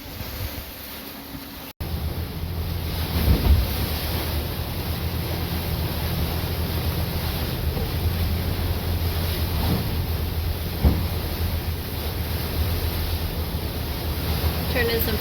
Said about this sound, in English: It's a squall that rolled through that is sustaining over 20 knots of wind,